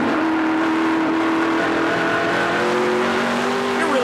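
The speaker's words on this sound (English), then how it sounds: "You can hear Trevor Siebert going down through the gears as he heads through turn 8" Onboard a race car at the 2009 Dickies 200, the engine drones loud and close with steady harmonic whine, pitch stepping down as the driver shifts down through the gears into a corner.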